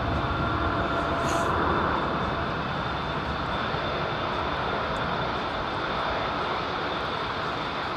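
An airliner's jet engines roar steadily as it takes off from Heathrow runway 27 right in calm wind, a loud, sustained broadband rumble heard from a distance with no voices.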